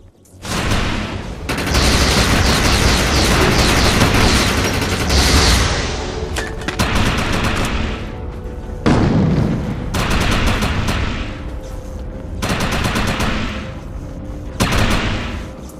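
Heavy gunfire and explosive booms in the video game Defiance as a player shoots at an enemy projection, loud dense bursts that keep pausing and restarting in several separate volleys.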